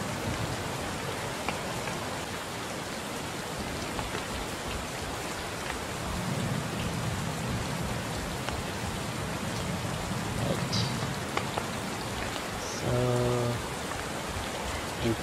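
Steady rain falls in a dynamic weather system in an Unreal Engine 4 open-world video game, a dense even hiss running throughout with brief low rumbles, while a voice speaks briefly over it.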